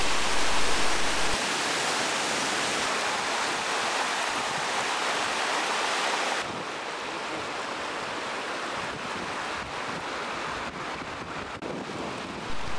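A powerful waterfall on the Isle of Mull roars continuously, a dense broad rush of falling water onto a beach below that stays loud and even throughout, with no voices.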